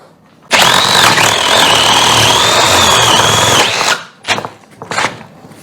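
A Milwaukee M12 Fuel cordless drill driving a spade bit into wood gives a loud, close whirring grind at steady speed, then stops and follows with a few short bursts.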